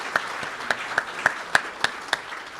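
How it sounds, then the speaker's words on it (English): Scattered applause at a 2019 essay contest award presentation, about nine sharp, evenly spaced claps ringing out clearly over a quiet room. "let's give him a round of applause"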